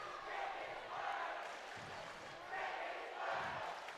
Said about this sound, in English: You can hear all the crowds getting riled up.